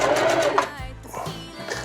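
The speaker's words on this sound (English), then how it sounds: "So I'm just gonna sew right down the middle to more or less keep it in place." A sewing machine running a seam down the middle of hammock fabric, a steady close whirring stitch that slows and softens toward the end.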